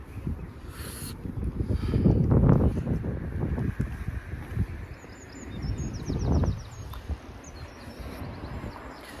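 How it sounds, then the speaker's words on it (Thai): Strong wind buffets the microphone outdoors on a cold morning among flowering trees, with deep rumbling gusts swelling around two seconds and again near six seconds, and faint birds chirping in the background. "ลมแรงมากเลย"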